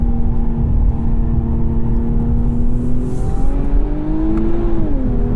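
A 2021 Infiniti Q50 Red Sport 400 AWD with a sport exhaust drones loudly in manual mode, the engine note holding steady then climbing as revs rise, with deep exhaust rumble throughout.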